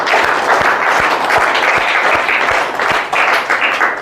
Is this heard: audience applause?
yes